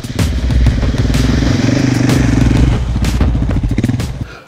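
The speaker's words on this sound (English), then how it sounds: "with the 701 being a thumping single cylinder, all 75 horsepower, that comes with some vibrations" A Husqvarna 701, a thumping 75-horsepower single-cylinder motorcycle, runs close by with a loud, pulsing, rapid engine beat and some clattering, alone without talk.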